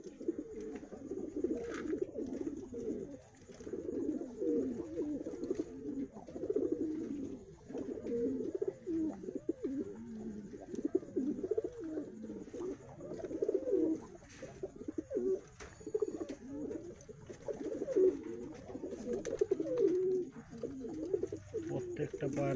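Pigeons of top-flying kabootar breeds, including Teddy cross birds, coo continuously in a loft, with layered overlapping low throaty coos filling the whole stretch at moderate, steady loudness.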